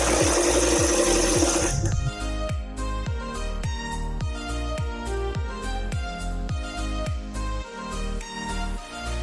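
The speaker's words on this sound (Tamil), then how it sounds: "இப்போ பதிவு தையல் போட்டுக்கலாம்" Sewing machine running a basting stitch along the edge of a frock, with a steady, rapid mechanical needle clatter at close range after a brief noisy start.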